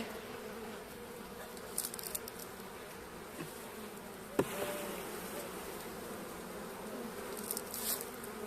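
Caucasian honey bees buzzing at an opened hive in late winter: a steady, dense drone of many bees close by, continuous throughout with a few faint clicks and knocks and no talking.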